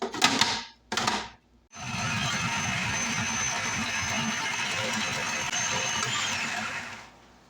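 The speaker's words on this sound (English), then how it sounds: "You start with 3 cups of frozen strawberries and put them in the food processor" A food processor starts with a couple of short pulses, then runs continuously, grinding and rattling frozen strawberry chunks for several seconds before switching off.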